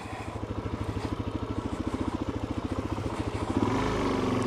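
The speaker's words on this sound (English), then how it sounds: "That's a pretty big ditch, but the bike went through it just fine." A motorcycle rides through a big ditch, its engine chugging in steady, rapid low thumps that build and swell into a louder, smoother roar at the end.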